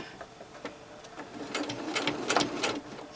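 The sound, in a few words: sewing machine stitching slipper binding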